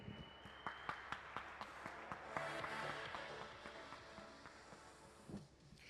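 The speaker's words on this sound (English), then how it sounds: "Let's give a round of applause for Courtney" Audience clapping after a glassblowing demonstration at a museum of glass, sustained applause of many hands at moderate distance, swelling in the middle and thinning toward the end.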